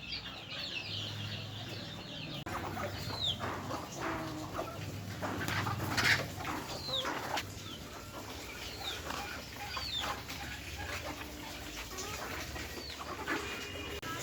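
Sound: native chickens on a farm

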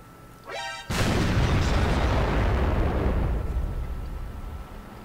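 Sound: Hummel artillery shell hit in World of Tanks video game

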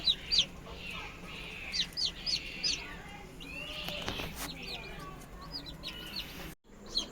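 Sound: country hens clucking near eggs

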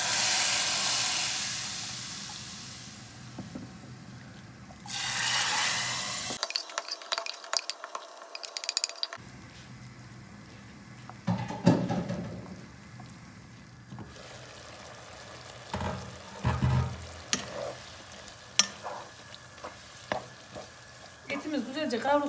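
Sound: meat sautéing in a pan

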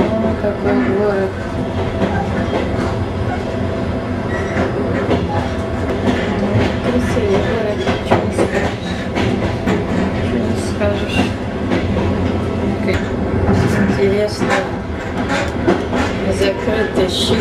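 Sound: riding a passenger train past Kazan

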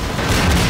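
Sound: grenade explosion in the video game Synergy

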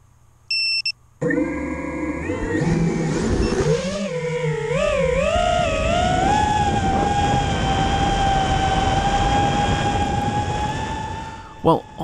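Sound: quadcopter drone motors humming in flight (HolyBro Kopis 2)

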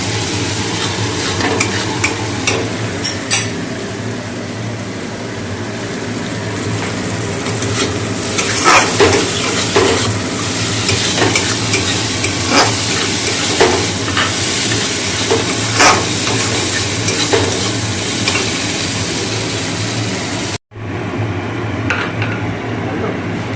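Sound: fish curry sizzling while stirred

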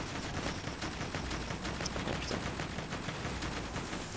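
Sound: Hyperion turret gunfire in video game Borderlands 2

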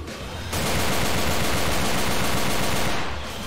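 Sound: gunfire from the video game Left 4 Dead 2

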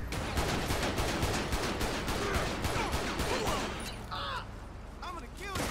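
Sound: gunfire in a video game (GTA V LSPDFR mod)

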